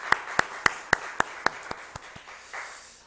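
A church congregation at a Sunday service claps together in a steady, evenly spaced rhythm of about a dozen beats, the claps growing softer and looser before dissolving into a brief wash of applause.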